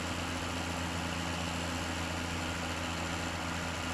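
A New Holland tractor engine idles steadily in Farming Simulator 17, a constant low droning hum with a continuous, unbroken tone throughout.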